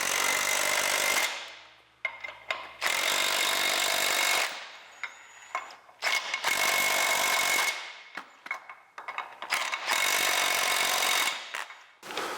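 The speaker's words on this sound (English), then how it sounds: "you take your little impact and run it up evenly all the way to its max." A small impact wrench runs up U-bolt nuts on the leaf springs of a 1982 Jeep CJ7, four loud, close hammering bursts of about two seconds each, separated by short pauses.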